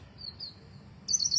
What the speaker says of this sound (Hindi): आज खूब चिड़ियाँ बोल रही हैं चारों तरफ, बहुत खुशी की बात है।